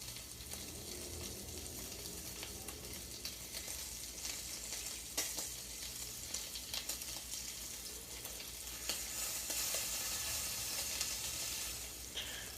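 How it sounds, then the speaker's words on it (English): Bacon for a bacon cheeseburger sizzles while frying in a pan, a continuous crackling hiss with small pops and occasional scrapes as it is pressed down, steady and fairly close throughout. "I'm going to go ahead and get some of this delicious bacon cooked up for our bacon cheeseburger"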